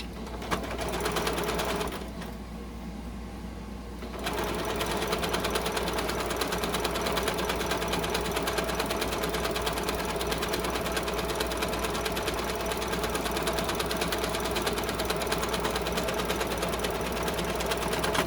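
A sewing machine stitches a fabric face mask tube in a steady, continuous whir for the whole stretch, briefly dropping in level for a couple of seconds before running on at full pace.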